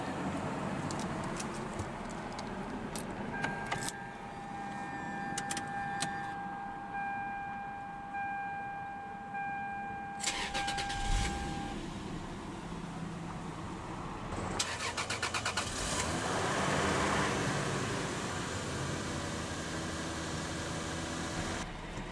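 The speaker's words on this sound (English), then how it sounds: "let's go ahead and start up that 2JZ GE" A 2JZ-GE engine in a 1995 Lexus SC 300 cranks briefly and catches, then settles into a steady, fairly loud idle heard from inside the cabin, with no talking.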